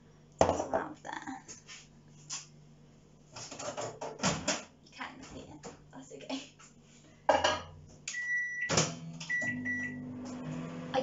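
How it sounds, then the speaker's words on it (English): A kitchen microwave oven melting butter for a chocolate banana steamed pudding; dishes and utensils clatter first, then the microwave beeps several times and its low hum starts, all fairly faint. "you need to put the butter into the microwave for 1 minute"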